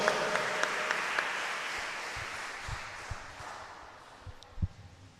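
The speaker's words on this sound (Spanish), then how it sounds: "Fuerte el aplauso." Applause from a church congregation during Mass fills the space as a soft, steady patter and then fades toward the end, with a few louder claps coming through.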